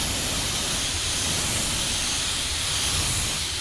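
A spray gun lays a metallic effect coat onto car paint for a small spot repair, giving a steady close hiss of atomized air that runs unbroken through the whole stretch, with no talk.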